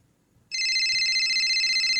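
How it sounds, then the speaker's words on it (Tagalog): A cellphone ringtone starts abruptly after a brief quiet stretch and rings on steadily and loud, a sustained electronic tone with no talk over it, inside a family house. "Ti cellphone ko. Agri-ring."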